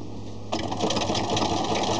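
Knit fabric runs through a sewing machine, quiet at first and then breaking into a fast, even stitching whir that carries on to the end, close by and alone.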